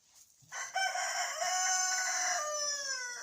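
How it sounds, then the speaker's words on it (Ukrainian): A young rooster crows once in a long, drawn-out call, close and clear, with its tone falling toward the end and nothing else competing. "О, вийшов, співає. Співоє півник."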